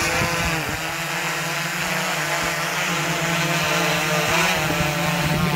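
A DJI Inspire 2 drone takes off in sport mode, its rotors giving a loud, steady high-pitched whir up close that swells slightly as it lifts, with no talking.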